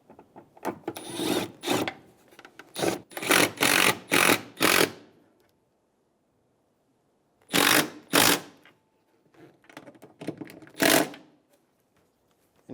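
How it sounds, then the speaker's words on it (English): Two screws are driven into a 2003-2008 Honda Pilot tail light assembly, heard as close bursts of rapid grinding whirring from a power driver, several runs separated by pauses of near silence. "Install the 2 screws."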